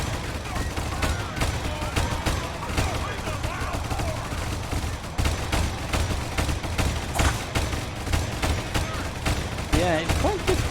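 Rapid gunfire from the Ultimate Epic Battle Simulator game, a dense continuous fusillade of shots in a mummy battle, loud and steady throughout, with bursts layered over a constant rumble of battle noise.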